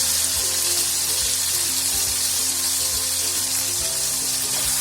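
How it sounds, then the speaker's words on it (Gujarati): Chopped tomato frying in a pan for a guava curry, a steady dense sizzle throughout with occasional soft stirring knocks, close and continuous with no voices. "ટમેટાને પકાવશું."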